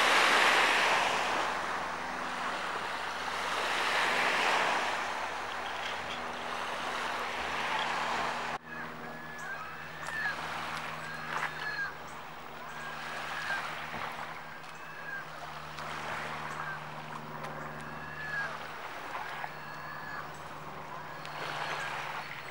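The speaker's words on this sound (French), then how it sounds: "On entend le bruit des vagues," Ocean waves wash and break continuously on the shore at Sainte-Pétronille, Île d'Orléans, with gusty wind rumbling across the microphone; no voices.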